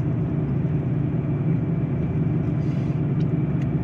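A 2011 Subaru Outback with a failing TR690 CVT gives off a steady, loud low rumble and drone from the rear end, running continuously without voices.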